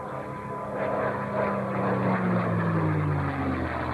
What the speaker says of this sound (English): Bakom propellern så döljer sig en Rolls-Royce Merlin-motor byggd av tackar i USA